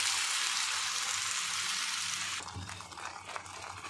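Ground tomato poured into hot oil with garlic for homemade pizza sauce hisses with a steady, bright sizzle, then softens into bubbling and stirring sounds close by.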